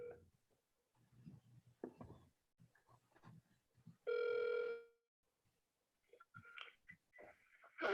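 A telephone rings once on a speakerphone during a court hearing call, one clear electronic tone lasting under a second amid faint breathing, shuffling and small room noises.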